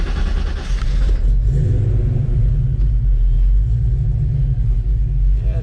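Freshly assembled Mustang engine cranking briefly, then catching and settling into a loud, steady, deep rumbling idle close by, with no talk over it.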